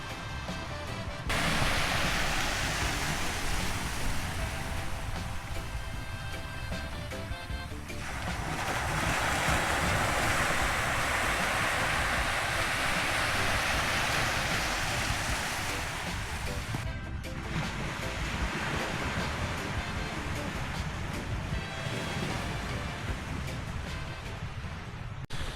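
Steady broadband wash of sea surf rolling in on a beach, loud and close, with a brief lull near the start and a slight dip midway; no voices.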